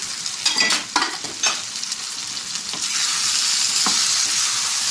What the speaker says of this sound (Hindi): दही डाल के हम इसको 2 से 3 मिनट के लिए पकाएंगे।